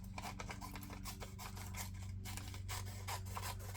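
Scissors cut through paper in short repeated crisp snips and scraping strokes, close and fairly quiet, with a steady low hum underneath and no talking.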